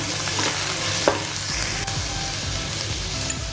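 Pasta with corn and capsicum (bell pepper) being stirred and fried in a hot pan, a steady close sizzle with scraping stir strokes throughout and no talking.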